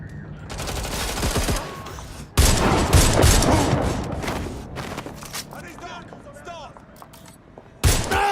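Rapid bursts of gunfire from a firefight in the video game Watch Dogs Legion, loud and dense with sharp volleys and a heavy blast near the start and end, while voices shout over the shooting.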